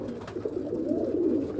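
Pigeons coo in a steady low burbling rhythm, several overlapping calls running continuously at close range with no voices.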